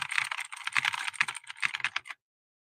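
Rapid, uneven clatter of fingers typing on a computer keyboard, played quickly to imitate the patter of rain, in close bursts for about two seconds before stopping.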